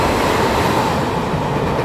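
A Disney-painted tourist train hauled by an E411 electric locomotive rolls past at a station in Taiwan, a steady close rumble of wheels and cars with no speech over it.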